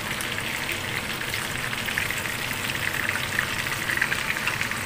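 Crispy chicken fries in a pan with a steady, dense sizzle and crackle of hot oil, continuous and close, with no voices.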